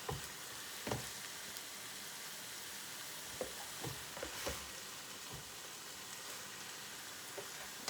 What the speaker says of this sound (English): Keep in mind, you're just browning the meat right now.